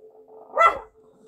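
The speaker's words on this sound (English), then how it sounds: "sorry, that's my dog barking." A single sharp bark from a dog, near and moderately loud, over a faint steady hum.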